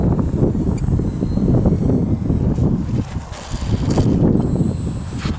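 The electric motor of a HobbyZone Glasair Sportsman RC plane hums in flight under heavy gusting wind noise. A faint high-pitched whine rises in and out, near the microphone and partly masked by the buffeting.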